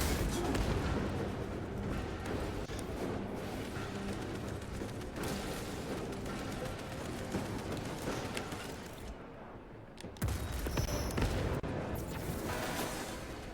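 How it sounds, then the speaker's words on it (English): Heavy booming explosions and gunfire rumble continuously in a video game battle against bugs, loud and chaotic, with a brief lull before the blasts resume. "Explosions. My lord."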